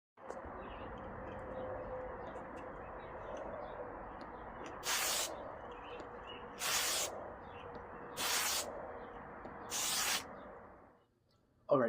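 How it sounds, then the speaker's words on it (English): Four short bursts of spray clear coat hiss over freshly printed decals in a shed, each lasting about a second at an even pace over a steady background hiss. "I'm going to go back to the shed to clear coat these decals now"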